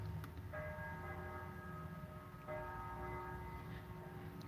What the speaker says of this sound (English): Hear the church bells?